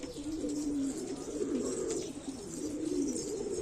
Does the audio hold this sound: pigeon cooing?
yes